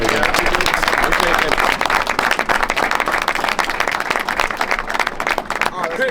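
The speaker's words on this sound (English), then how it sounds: "round of applause for like these boys first" Steady, dense applause from a crowd at a sales conference in Milan fills the whole stretch, with clapping continuing evenly throughout and voices mixed in.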